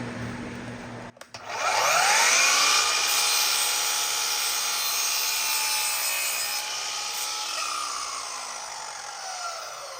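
A table saw rips through walnut side pieces for a bookshelf frame, a loud sustained whining cut starting about a second in and holding steady to the end, close and alone with no talk.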